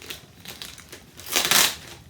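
Gift package from a tarot trade being opened by hand, its wrapping crinkling and crushing in a few soft bursts that swell into a louder, close rustle near the end, with no talking.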